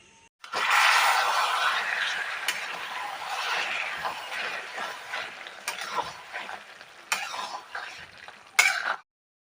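Malabar spinach and pumpkin with potato and pointed gourd are stirred in a pan, a sizzling rustle with the scrape and clink of a spoon against metal, fading unevenly before a sharp final knock.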